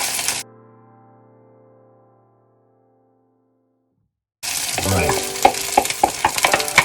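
An egg and rice mixture hits a hot pan of browned garlic for Japanese-style egg fried rice. After a fading ringing tone and silence, a loud, close sizzle erupts with stirring scrapes, and a brief word is spoken.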